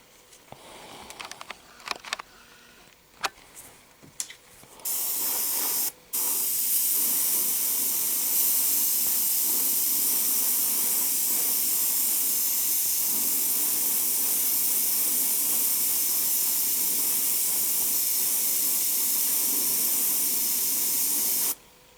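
An airbrush sprays Vallejo Metal Color acrylic paint: a few short clicks and bursts at first, then a loud, continuous close hiss that runs unbroken to the end.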